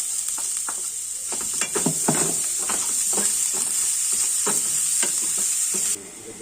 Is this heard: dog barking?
no